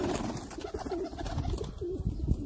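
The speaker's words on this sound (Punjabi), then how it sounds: "ਇਹ ਸਰ ਸਾਡਾ ਬਰੀਡਰ ਕਬੂਤਰ ਹੈ।" A Sialkoti breeder pigeon coos close by, repeating soft, low throaty calls in a steady rhythm with no other sounds.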